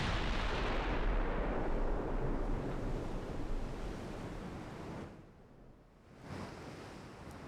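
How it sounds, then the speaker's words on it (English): Heavy naval wing guns fire in Ultimate Admiral Dreadnoughts, a loud booming roar that rolls on like surf and slowly decays, dips to near quiet, then swells again with another distant rumble. "Oh, yep, wing guns."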